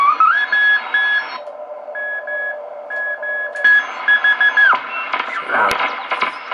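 A Hammarlund HQ-145X shortwave receiver tuned to CW, with keyed Morse tones beeping in irregular bursts over band hiss and static, a few pitches overlapping and shifting as the dial moves, with a crackle near the end.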